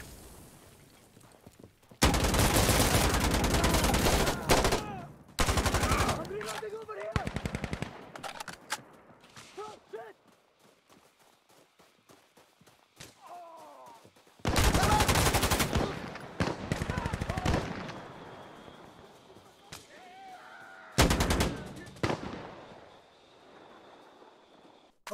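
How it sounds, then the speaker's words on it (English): Gunfire in the video game Frontline, loud bursts of rapid automatic fire in several clusters separated by quieter stretches, with a voice heard briefly. "Stop shooting me"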